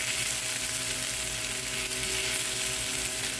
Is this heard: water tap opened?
no